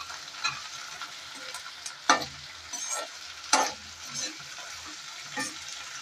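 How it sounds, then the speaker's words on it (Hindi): Chopped onions fry in a pan with a soft continuous sizzle, broken by a few sharper scraping strokes as a spoon stirs them, close and moderately loud. "अब जब प्याज हमारा थोड़ा ब्राउन हो जाए तब हम इसमें मसालों को ऐड करेंगे।"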